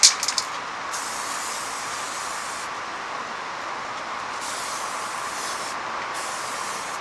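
Spray paint being laid onto a car in a backyard, a steady close hiss running continuously with brief gaps between passes and a few clicks at the start.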